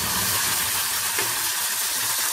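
Ground onion, tomato, ginger and garlic masala paste sizzling in butter for paneer butter masala, a steady close hiss and crackle with no talking.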